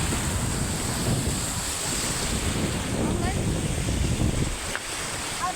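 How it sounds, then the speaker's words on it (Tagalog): Ocean waves roll and crash amid heavy wind buffeting the microphone, a steady loud roar of surf outdoors. "Ang lakas ng alon"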